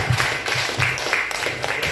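An audience at a diabetes testimonial gathering claps, steady overlapping hand claps of moderate loudness that continue throughout with faint voices mixed in.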